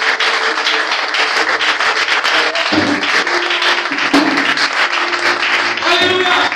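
A church congregation applauds and cheers for Jesus, with a dense wash of clapping and voices running steadily and loudly throughout, and singing or speaking voices mixed in.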